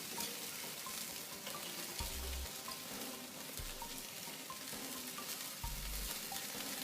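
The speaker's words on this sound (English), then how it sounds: "Let's give these a good quick sear. Just move them all over the coals, flip them once, stick them in the pan." Buffalo chicken pieces sear over hot grill coals, giving a steady close sizzle and crackle with a few scraping stirs and some faint thumps as the pieces are moved.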